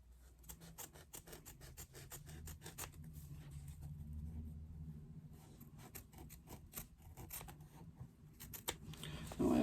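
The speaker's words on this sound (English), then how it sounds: "Now, I always use big scissors for this" Big scissors snip and trim through foam in a quick series of crisp cuts, close and fairly quiet, over a low background hum.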